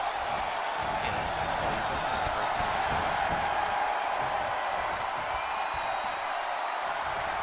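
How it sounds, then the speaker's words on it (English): Arena crowd noise from WWE 2K20 wrestling in Los Angeles, a steady broad roar of cheering held at an even level throughout with no distinct peaks. "When you listen to this crowd, they're absolutely electric."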